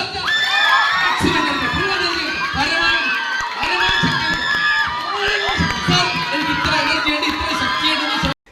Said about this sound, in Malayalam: ചവിട്ടണം, കൈയടിക്കണം, കൂവണം.